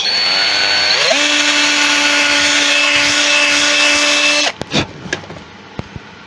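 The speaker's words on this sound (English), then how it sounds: "Drilling for the nose." Electric drill boring a hole in a driftwood snowman for the nose: a steady high whine that spins up, holds for a few seconds and stops, followed by a few light knocks and clicks.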